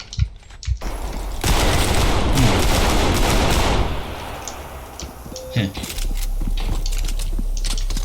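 Gunfire from the video game Trepang2 in a dense, sustained rattling burst, then scattered shots and clicks, with a player speaking intermittently underneath.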